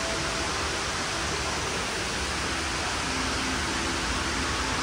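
Constant broadband roar of water tumbling down a multi-storey indoor waterfall in Dubai Mall, close and unbroken, with no voices over it.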